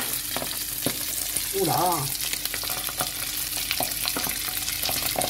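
A salmon fillet fries skin-side down in a pan with a loud, continuous sizzle and crackle, while a voice briefly exclaims over it.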